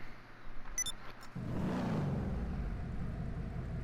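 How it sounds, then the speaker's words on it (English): A few faint clicks, then a GTA 5 video game car engine roars to life and settles into a low, steady, rumbling idle up close. "Sounds good when it's idling."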